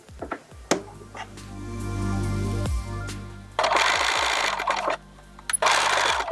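A sewing machine sews elastic tape onto shoulder pieces of a bodysuit top. A low motor hum comes first, then a couple of bursts of rapid close stitching with brief pauses and clicks between them.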